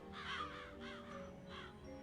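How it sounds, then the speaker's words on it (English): Crows caw in the Psychonauts video game, three rasping calls at a steady pace over a faint ambient background. "Come down, you crows."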